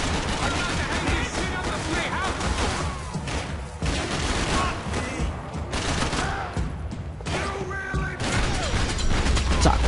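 AK rifle fire in the video game Max Payne 3 comes as dense, continuous bursts of automatic shots layered with game mechanism noises, loud and close throughout the whole stretch.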